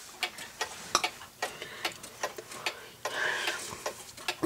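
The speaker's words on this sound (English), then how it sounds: "Here's my ornate German clock" Ornate German clock ticking loudly and steadily up close, with even, regular ticks and a brief rustle of handling partway through.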